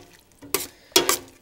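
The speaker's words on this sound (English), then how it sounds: "I'm gonna turn this up a little bit so it sautés." Vegetables sautéing in a soup pot for broccoli cheese soup, two short bursts of sizzling and stirring scrapes separated by quiet, fairly close with no talking.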